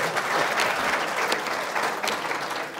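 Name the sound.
applause from a political rally audience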